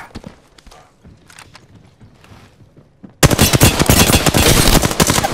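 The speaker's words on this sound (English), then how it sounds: "Shots fired at me." Rapid, loud, close-up automatic gunfire in Apex Legends from a Spitfire or R-301. It starts halfway through after a stretch of quieter footsteps and clatter, then a dense sustained burst of shots.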